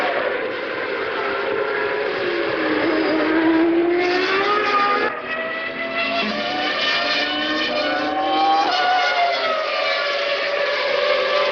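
Formula One cars of the 1997 Argentine Grand Prix at Buenos Aires, among them a Stewart Ford, screaming past the pit lane, high engine whine rising and falling as cars pass and overlap, loud and sustained.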